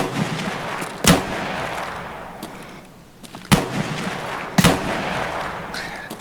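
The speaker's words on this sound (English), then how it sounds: "Some lonely scavs trying to shoot me in the back with a shotgun from across the map." Three loud, sharp shotgun blasts from scavs in Escape from Tarkov boom out at about one-second, two-second and one-second gaps, each with a long rolling echo across open ground, with no voices.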